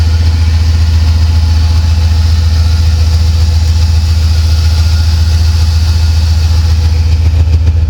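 A 1987 Buick Regal turbo engine, swapped to a 5.3 with a 4L80E transmission, idles close-up with a loud, steady low rumble and no talking.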